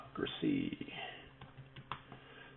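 Someone types on a Mac computer keyboard, giving soft, uneven key clicks and taps, close and quiet, with a voice speaking over part of it.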